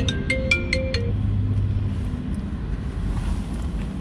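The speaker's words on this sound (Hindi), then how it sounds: "फोन आ रहा है किसी का" A mobile phone ringtone sounds an incoming call inside a car, a bright repeating melodic tone for about two seconds over a low engine rumble, then fading to the car's steady background hum.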